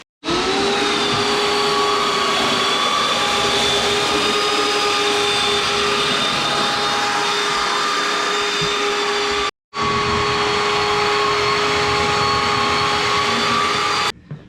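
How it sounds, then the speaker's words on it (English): Floor sander smoothing and flattening a cabin floor, a loud steady whine and roar running continuously with one brief cut-off partway through before resuming. "is gonna sand this smooth and flat"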